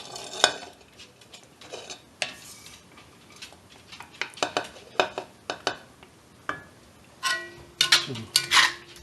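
Rice being scooped and served from a cast iron pan onto a plate, with a string of close, irregular scrapes and clinks of a utensil against metal and the dish, separated by brief quiet gaps.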